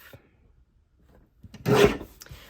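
A paper trimmer blade slides once through a sheet of patterned paper, a short rasping swipe after near silence, close and fairly soft.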